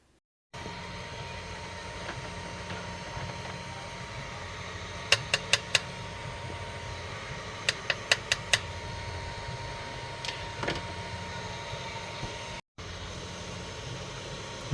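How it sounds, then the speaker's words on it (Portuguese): An Elegoo Neptune 4 Pro Max 3D printer runs a print, with a steady fan drone, a faint motor whine and clusters of sharp mechanical clicks. Nobody speaks. "Agora é só fatiar e tá pronto aqui, ó. só colocar para imprimir."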